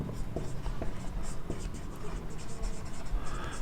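Chalk or a marker writing the heading "reproductive health" on a board during a biology class, heard as faint scratchy strokes over steady room noise and a low murmur of talk.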